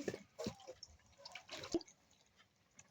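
Washed dried fish dropped into hot water in a rice cooker pot, giving a few brief, quiet splashes and drips close by over a faint background.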